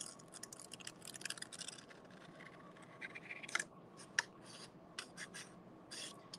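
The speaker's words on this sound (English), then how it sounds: "So I'm gonna cut that out." Scissors cut out a paper moth shape up close, giving quiet, irregular snips and rustling paper scrapes for several seconds, with a couple of sharper clicks.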